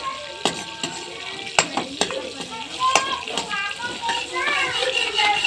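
Cumin seeds sizzling in desi ghee, a bright crackling fizz with repeated sharp spoon taps and scrapes as it is stirred, while someone talks over it.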